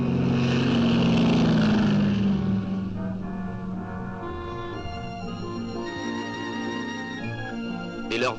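A military propeller aircraft of the Senegalese army drones loudly overhead, a strong steady engine roar that holds and slowly shifts in pitch as it passes.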